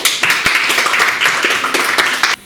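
Applause from a school audience for a student speaker at a secondary-school public speaking contest, a brief burst of clapping that cuts off abruptly near the end.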